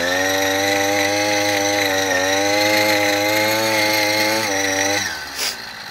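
Old moped engine idling steadily with a buzzy, chainsaw-like two-stroke drone, loud and close, holding constant before cutting off near the end.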